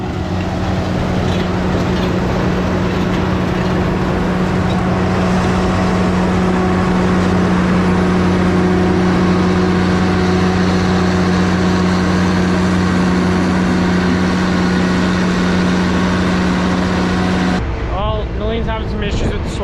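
A swather with a broken knife cuts a tough silage crop, its engine and machinery droning steadily and loudly with a constant hum throughout, while a voice talks over it.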